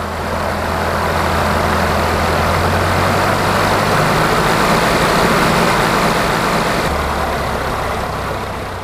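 A light aircraft's piston engine is run up on the ground before takeoff, a loud, steady drone that swells and holds, then eases back slightly near the end.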